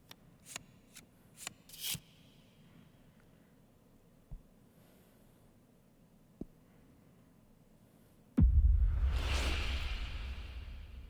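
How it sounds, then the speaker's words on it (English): A card deck is shuffled in the video game The Cosmic Wheel Sisterhood: several quick, soft riffling flicks come in a short burst, then scattered faint taps, and finally a louder, sustained whooshing swell. "Hold tight to that excitement while I shuffle my deck."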